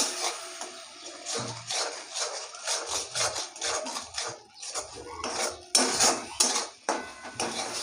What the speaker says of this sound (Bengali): এখন আমি মশলাটাকে কষিয়ে নেবো ভালো করে।